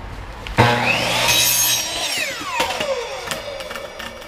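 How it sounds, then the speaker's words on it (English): A power tool bites into a short length of PVC pipe while grooves are cut for rod holders, opening with a sharp attack, then a loud rising and falling whine that grinds on, up close with no talking. "So all we have to do is cut 3 grooves in here."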